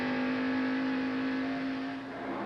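A NASCAR Winston Cup race car engine at the 1989 AC Spark Plug 500 screams at around 8,000 RPM, a loud sustained high-pitched drone holding steady with a slight dip toward the end.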